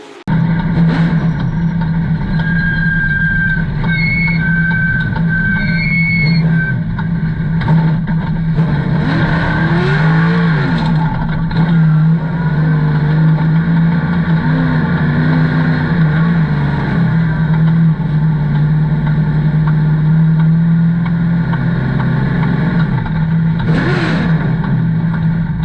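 Race cars at Hickory Motor Speedway, a loud continuous engine roar with droning, swelling passes as the pack rounds the track on the final lap, no voices.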